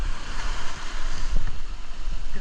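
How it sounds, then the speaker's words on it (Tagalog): Ocean waves wash and churn around a spearfishing boat off a rocky shore in Eastern Samar, a steady rushing surf with gusty wind buffeting the microphone throughout. "Bilang lumaki yung alon. Na-out balance tayo."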